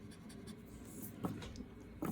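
A 175th Anniversary Cross fountain pen writes on paper with faint, soft scratching strokes and two brief, slightly louder scrapes near the end, close and quiet.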